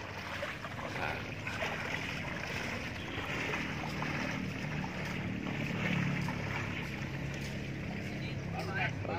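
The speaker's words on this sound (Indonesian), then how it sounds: "kita menggunakan speedboat ya, mesin 40 PK ini guys" A speedboat driven by a 40 hp outboard engine drones and hums steadily on the water, with splashing and wind noise while people talk over it.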